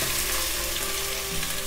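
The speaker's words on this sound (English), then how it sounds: "Now I'll add my chopped tomatoes into this." Chopped tomatoes sizzle in hot oil in a pan for a moringa dal, giving a loud, continuous, close frying hiss with faint stirring underneath.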